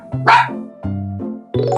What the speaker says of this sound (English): It was a dog!